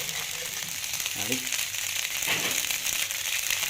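Ingredients frying in a pan while cooking fish amok, a steady broadband sizzle running throughout at moderate level, with a couple of brief stirring scrapes partway through.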